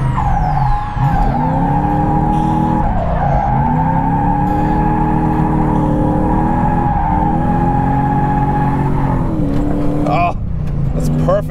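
A Lexus IS200 with a 1UZ V8 swap drifts on a race track, long continuous tire squeal over a loud, steady engine drone, with pitch shifts as the car slides through corners and brief gear changes near the end.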